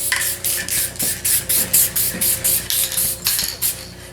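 A spray gun lays a light, even first coat of black paint on a car panel in steady rhythmic bursts, about a dozen loud hissing passes in a row with brief pauses between them.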